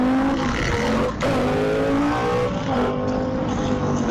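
A motorbike on a group breakfast ride accelerates hard into a small wheelie, its engine note rising in steady harmonic sweeps, loud and close, with a brief dip partway through.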